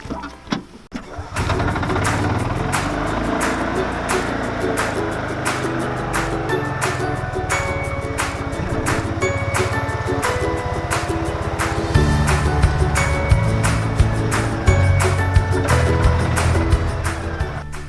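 A Gator utility vehicle drives around a garden, its engine running steadily and close with a rough mechanical drone and clattering, shifting in pitch as it moves, after a few knocks at the start.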